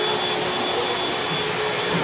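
A homemade three-axis CNC machine runs its X, Y and Z stepper motors, giving a steady, loud, continuous whirring hum that holds even throughout, with no talk.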